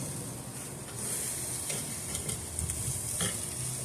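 Food sizzles on a BBQ grill outdoors in South Florida, a steady soft hiss with occasional pops and crackles, no voices present.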